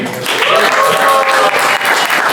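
A comedy club audience claps loudly and continuously, a thick wash of applause with faint voices and whoops mixed in.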